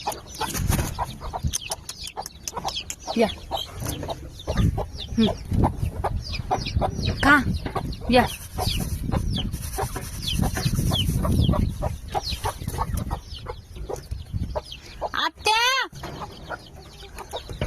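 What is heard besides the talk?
hens clucking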